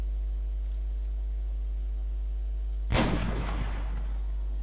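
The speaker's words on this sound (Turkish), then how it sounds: "Şu silahın sesiyle bile ölünür lan." A single booming gunshot in ARMA III breaks through a steady electronic hum, then a rumbling decay fades out; no talking.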